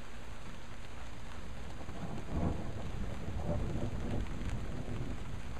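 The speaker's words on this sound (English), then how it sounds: "And some thunder." Thunder rumbles low and heavy through a steady rainstorm, swelling midway and then fading back under the constant patter of rain, with no voices.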